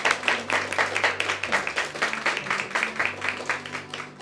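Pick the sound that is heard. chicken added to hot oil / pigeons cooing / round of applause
round of applause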